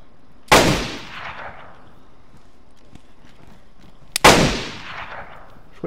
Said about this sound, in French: Il m'a tiré dessus depuis en bas